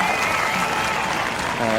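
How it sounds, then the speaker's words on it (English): Spectators at the Rip Curl Women's Pro at Bells Beach applaud and cheer a surfer's wave, a steady, somewhat distant wash of clapping that holds for the whole moment with faint voices mixed in. "The crowd appreciating that."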